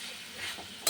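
Pangas fish sautéing in a pan, with a brief soft frying hiss and a light stir before a sharp scrape at the end, close and fairly quiet.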